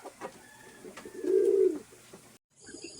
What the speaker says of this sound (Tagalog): Ito naman yung area kung saan binitawan yung ating mga ibon